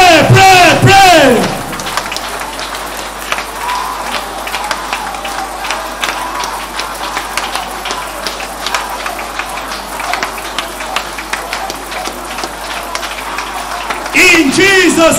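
A church congregation claps during prayer, a dense, sustained patter of many hands, with a voice talking at the start and end.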